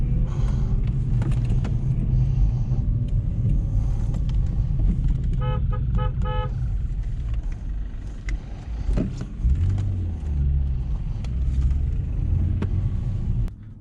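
A car engine roars steadily through a drift session on a circuit, loud and continuous at close range, with a brief short toot midway and a rumbling surge near the end.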